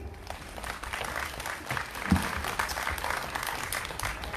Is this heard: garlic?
no